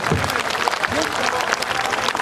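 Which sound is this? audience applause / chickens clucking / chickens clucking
audience applause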